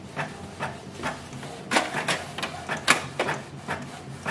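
A Canon Pixma G620 inkjet printer prints a test page, giving a string of irregular mechanical clacks and whirring bursts, close and moderately loud, with no voices.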